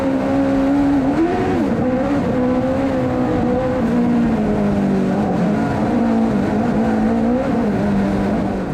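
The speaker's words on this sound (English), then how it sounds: "could not go any faster on these dirt roads in this car" A race car is pushed hard up the dirt roads of Mt. Washington at the Climb to the Clouds hill climb, its engine droning loudly and continuously as the revs rise and dip through the bends, heard close from onboard.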